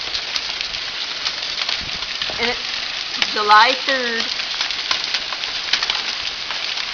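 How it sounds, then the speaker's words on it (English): Hail pattering steadily during a hot summer storm in Germany, a dense crackling hiss throughout, with people talking over it. "It's hot outside and there's hail."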